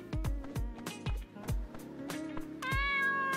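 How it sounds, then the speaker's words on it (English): A house cat meows close and clear just before feeding time, with several short mews over background music and thumps, ending in a longer, drawn-out meow. "Let's feed the cat."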